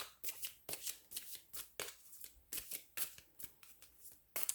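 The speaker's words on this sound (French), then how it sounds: "je vais aller voir peut-être juste 3 cartes ici" Tarot cards being shuffled by hand, a quick series of crisp riffling bursts in an irregular rhythm, quiet and close, alone.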